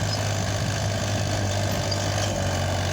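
Steady low engine drone of a tractor driving in low third gear with front-wheel drive through a winter wheat field, continuous and close with no talking.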